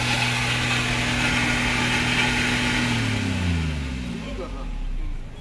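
A Honda i20 car engine idles with a steady low hum and drone during an engine-cleaning demonstration. The pitch slides down near the end as the engine settles. A voice talks faintly over it.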